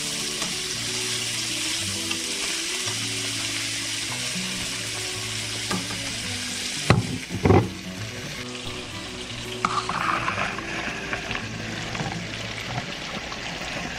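Italian Parmesan sausage meatballs sear in a hot pan with a steady, close sizzle, broken midway by a couple of sharp clatters as they are stirred or turned, while a faint running-water sound joins toward the end.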